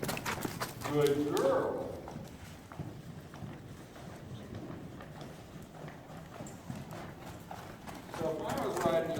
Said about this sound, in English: Now I'll ask her to canter.